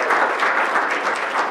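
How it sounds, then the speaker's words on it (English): An audience at a Rochester Board of Education business meeting applauds, a dense, even wash of clapping that holds steady throughout. "let's give them another round of applause"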